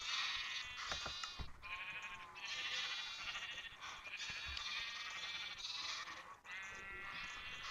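Sheep in the Minecraft video game bleat repeatedly, several overlapping wavering calls in quick succession, clear and fairly faint, with no one talking over them.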